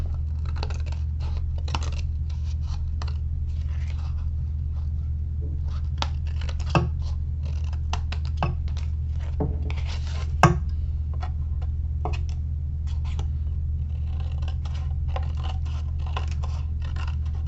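Scissors snip off paper edges at a craft table in a series of close, light cutting clicks and scrapes, steady over a constant low hum.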